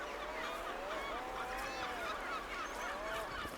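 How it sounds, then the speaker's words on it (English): Countless seabirds call over Skomer island, an off-shore Welsh colony, their overlapping honking cries forming a constant dense chorus with rising and falling calls throughout. "They share Skomer with countless seabirds."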